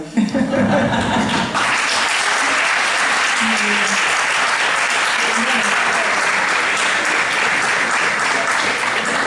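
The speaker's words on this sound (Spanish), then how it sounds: "Aplausos para ustedes." An audience at a women-and-economy professional conference in the Canary Islands breaks into sustained applause, loud and dense from the start, with a voice briefly audible at the opening and faint chuckles mixed into the clapping.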